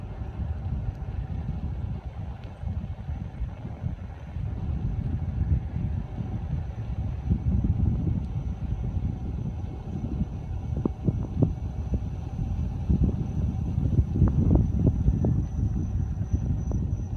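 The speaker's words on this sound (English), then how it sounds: "Wow, it's really windy right now." Steady outdoor wind in Springwood Park rumbles and buffets against the microphone, a continuous low roar with gusts growing stronger toward the end.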